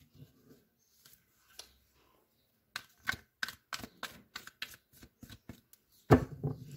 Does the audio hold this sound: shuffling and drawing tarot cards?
yes